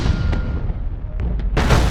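Space warship cannons boom in the video game Battlefleet Gothic: Armada, a heavy rumbling barrage with a few sharp reports and a louder blast near the end, loud and close with no talking.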